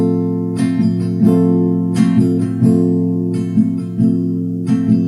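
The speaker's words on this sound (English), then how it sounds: "the strumming pattern for this song is down, up, down, up, down, which would sound like this." Acoustic guitar strummed steadily in a down-up-down-up-down pattern, repeated across several bars with crisp upper-string attacks over ringing chords, close and alone without voices.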